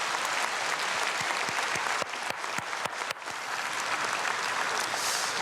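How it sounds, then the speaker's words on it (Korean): A church congregation at a dawn prayer service claps together in sustained, dense applause. The clapping runs steady and full throughout, with a few sharper individual claps standing out. "우리 축복의 박수 한번 드리겠습니다"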